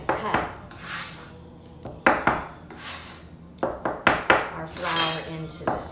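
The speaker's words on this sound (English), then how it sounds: "So this is where a bench scraper comes in. So we're just going to cut" Metal bench scraper scraping and chopping through pasta dough and flour on a work surface, a run of sharp scrapes and taps coming in bursts, close and fairly loud, with no talking.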